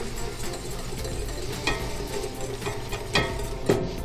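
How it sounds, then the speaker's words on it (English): Butter being whisked into a sauce in a pan over a very low flame, with a soft continuous stirring scrape, faint sizzle and a few clinking whisk strikes against the pan. "Adding your butter and whisking."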